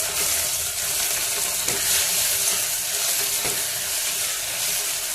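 Potatoes fry in oil in a pan, a steady close sizzle with occasional stirring scrapes, dense and continuous with no voices over it.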